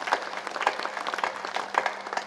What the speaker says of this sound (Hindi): पूरा सदन इनके लिए इसलिए ताली बजाए